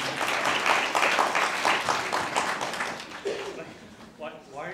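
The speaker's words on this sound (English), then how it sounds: "Why are you clapping?" An audience claps at a fisheries science session, a dense, steady round of applause that gradually thins and fades, with a voice starting up near the end.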